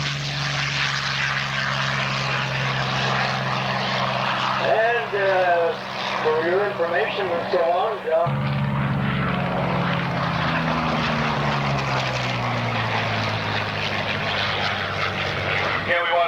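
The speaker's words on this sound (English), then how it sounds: "up and on takeoff roll, our first P-40 ready to go" A P-40 warbird fighter's piston engine drones loudly and steadily through its takeoff roll at an airshow, the propeller hum shifting in pitch partway through, with a voice speaking over it.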